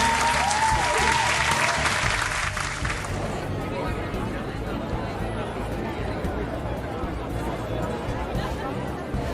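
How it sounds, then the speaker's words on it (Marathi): Audience at a BJP state executive convention giving a standing ovation, a loud, sustained wash of clapping from a large crowd, with voices heard over the start. "उभं राहून सर्वांनी उभं राहून टाळ्या"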